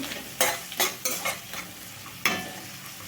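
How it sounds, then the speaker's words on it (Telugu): Vegetables for a cabbage and yellow gram curry being stirred and fried in a pan, with a few distinct scraping stirs over a low, steady sizzle, close and moderately loud, no talking. "మంచిగా సాఫ్ట్గా కలర్ వచ్చిన దాకైతే వేయించుకున్నాము"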